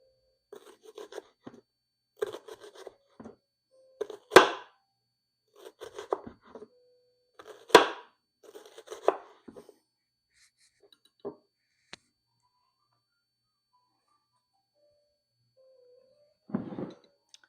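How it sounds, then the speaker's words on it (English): A knife cuts zucchini into very thin julienne slices on a board, giving sparse, irregular crisp taps and short scraping strokes close by, with quiet gaps between and no talking. "So we're just going to cut real thin slices, about as thin as you can get them."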